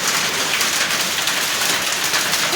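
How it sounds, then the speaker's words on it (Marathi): A dense, steady patter of large hailstones striking a courtyard nearby, a constant broadband clatter like heavy hail, with no voices. "हे बघा किती मोठ्या मोठ्या गारा पडतायत"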